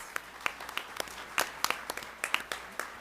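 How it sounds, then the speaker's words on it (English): Scattered applause for students at a school district governing board meeting, a thin patter of individual claps from a small audience, irregular and fairly quiet, lasting a few seconds. "round of applause for all of our students?"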